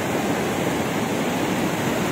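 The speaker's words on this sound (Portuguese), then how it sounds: "É muita água que vai em direção ao açude Castanhão aí." The flooded Rio Salgado in Aurora, Ceará rushes past as a loud, continuous broadband roar of churning water, steady throughout with no voices.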